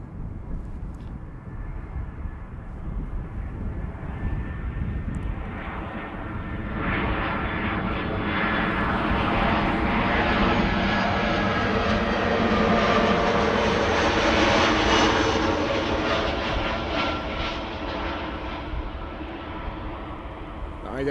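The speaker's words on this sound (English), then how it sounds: "This is Aer Lingus, flight 604, arriving from Dublin in Ireland," An Aer Lingus Airbus A320 arriving at Amsterdam Schiphol from Dublin roars in close, its jet engine whine rising and swelling to a loud peak midway before easing off, with faint talk beneath.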